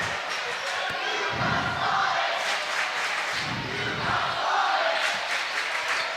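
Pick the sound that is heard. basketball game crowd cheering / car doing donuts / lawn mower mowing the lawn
basketball game crowd cheering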